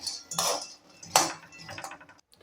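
Roasted chickpeas are scraped out of a kadhai with a metal spoon, giving a few sharp clinks and scrapes of metal against the pan, close and fairly loud, with short pauses between strokes.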